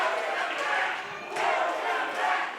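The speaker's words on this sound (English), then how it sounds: "Listen to that crowd." A large wrestling crowd at a Riot City Wrestling show cheers and roars in a steady, swelling wash of voices heard from within the arena.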